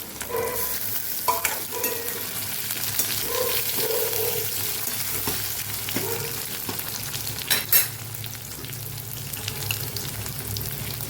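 Potatoes and tomato frying in a pan for a sabudana fasting dish, with a continuous sizzle under repeated scraping stirs and a few sharp clinks of the spoon against the pan.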